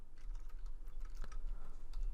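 Computer keyboard keys tapped in a steady run of light clicks, fairly close and moderately loud, with one sharper keystroke near the middle and no voices.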